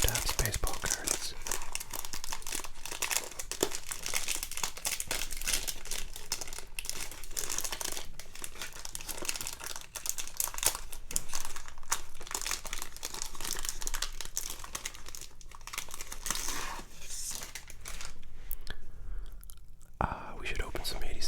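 A 1988 Topps rack pack of baseball cards is opened with continuous close wrapper crinkling and tearing, heard amid soft whispering and gum chewing throughout.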